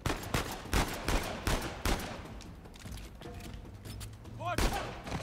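Gunfire in the Uncharted 4 video game: a rapid series of sharp, loud shots, then a pause and another burst near the end, with a voice faintly heard in between.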